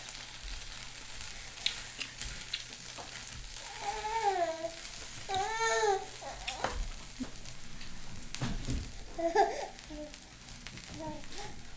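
Korean seafood pancake with scallion sizzling in a frying pan, a steady soft crackle of oil running throughout, quiet and close, with faint voices in the background.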